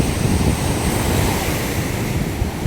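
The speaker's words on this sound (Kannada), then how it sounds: "ಅಲೆಗಳ ಅಬ್ಬರ ತುಂಬ ಜೋರಾಗೇ ಇದೆ" Loud ocean surf roars continuously at Eden Beach, Puducherry, in the evening, with a steady rush of wind across the microphone, no voices.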